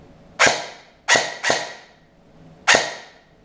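Four sharp shots from an airsoft gun with an ASCU Gen3+ unit fired one at a time in semi-auto, each a crisp snapping crack with a short decay, irregularly spaced, close and loud.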